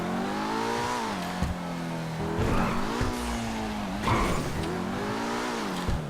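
A super car in GTA V slides through handbrake turns, its tires skidding and squealing in repeated bursts over a steady, droning engine note that dips and rises with each turn.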